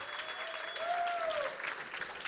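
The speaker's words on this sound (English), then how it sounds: "let's have a round of applause" Audience applause at a tech summit, steady clapping from a crowd for about two seconds, with a faint sustained tone running through it.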